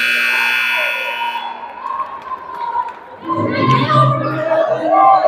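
A basketball game buzzer at a college women's game sounds loud and steady for over a second, then gives way to arena crowd noise and chatter.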